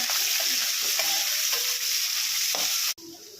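Capsicum and other ingredients being stirred and fried in a pan, a steady loud sizzle with repeated scraping stir strokes, cutting off sharply near the end.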